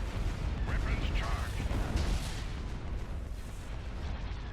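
Artillery batteries of a heavy cruiser fleet in the Star Wars strategy game Thrawn's Revenge pound away in a dense, continuous low rumble of booming volleys, with voices faintly mixed in.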